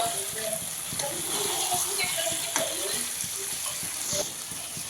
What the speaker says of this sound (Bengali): মাটনটা ম্যারিনেশন করা ছিল, সেই মাটনটাকে পেঁয়াজের উপর দিয়ে একটু ভেজে নেব।